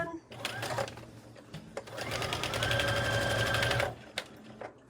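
A sewing machine runs in bursts, then settles into a steady, fast mechanical whir while stitching over the seams of pajama pants made from a thrifted shirt, with a voice talking briefly before the stitching.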